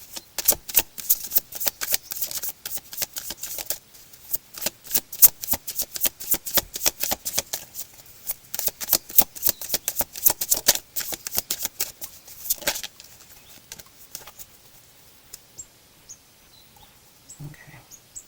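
Cards are shuffled for a reading in rapid, crisp riffles and flicks, close and loud, running in bursts before tapering off into a few sparse taps.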